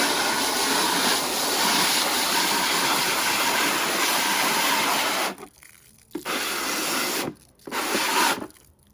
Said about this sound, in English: And then I just rinse